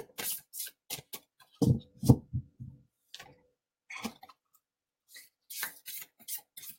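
Oracle cards shuffled by hand in short, soft riffling bursts with quiet gaps, close and dry, with no talking over them.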